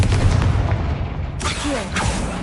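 A Confringo blasting spell explodes in Hogwarts Legacy, aimed at a broken lift: a loud, booming burst of fire over constant game ambience, followed by a second crackling impact.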